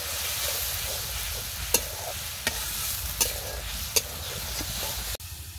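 Spice masala of chili, turmeric, coriander and cumin paste with salt frying in a pan, giving a steady soft sizzle broken by a few sharp scrapes of a spoon stirring, without talk.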